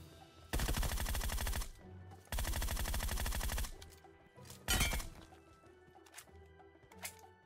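Gunfire in PUBG Mobile, a solo-versus-squad battle royale match: two loud, dense bursts of rapid automatic shots, each lasting about a second, followed by a sharper single crack and quieter scattered shots in the distance.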